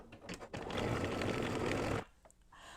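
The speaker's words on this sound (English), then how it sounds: "And now I'm going to go ahead and stitch that down." An embroidery machine stitches background fabric pieces for an in-the-hoop mug rug, giving a steady close mechanical whir for about a second and a half that stops abruptly, with faint handling noises around it.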